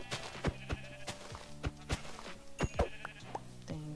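Sheep bleat repeatedly in the video game Minecraft, a series of short, close, nasal bleats spaced irregularly across the moment with no talking.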